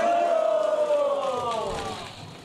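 A crowd cheers as a ridge beam made of pine from Geumgangsan is raised onto a restored Joseon-era government hall in Jeonju, a loud sustained shout that fades out, with a narrator's voice over it.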